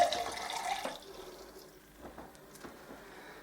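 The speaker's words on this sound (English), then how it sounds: "Put a bit more water in." Water is poured into a container of tomato seeds being fermented, producing a brief splashing pour. It fades into quieter trickles and a few small drips.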